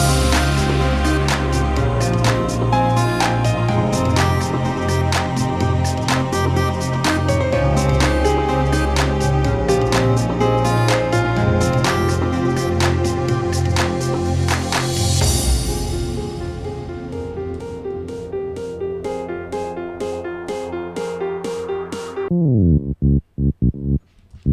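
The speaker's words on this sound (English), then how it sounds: "so you can hear that sort of pumpy effect" Funky house track built on a default M1 synth patch with compressor and reverb, sidechained to the kick so the sound pumps in a steady rhythmic swell; dense loud mix that thins out near the end before stopping abruptly.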